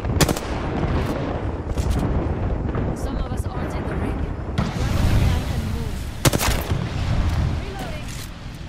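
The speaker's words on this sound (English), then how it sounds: "Airstrike." Airstrike explosions in a video game firefight, heavy booming blasts and crackling gunfire rumbling continuously, with a couple of sharp loud impacts, under excited talking from players.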